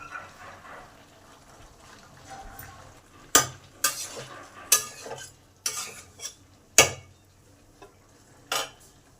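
A spoon scrapes and knocks against a pan as chickpeas, fried pointed gourd and mixed vegetables are tossed with spices, producing about eight loud, irregular clanks and scrapes over a faint, quiet background sizzle.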